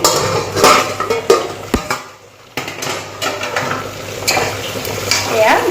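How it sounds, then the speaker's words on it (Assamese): Chicken pieces fry and sizzle loudly in a pan for butter chicken, with repeated clanks and scrapes of a spoon stirring against the metal and a brief quiet gap midway. "ভাজ খাইছে ভালকৈ মাংসখিনি কিন্তু ভাজি ল'ব লাগে দেই"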